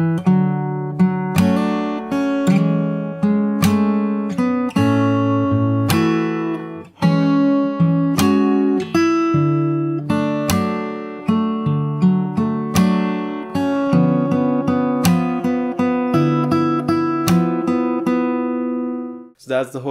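Fingerstyle acoustic guitar playing a section of a song, a steady run of plucked bass notes and chords in a lilting rhythm, close and clear, unaccompanied until a brief squeak at the end.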